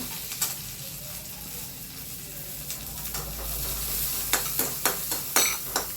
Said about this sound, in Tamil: பொடியாக அரிஞ்சால் பத்து பூண்டுங்க இந்த நல்லெண்ணெயில் வறுத்துக்கிறேங்க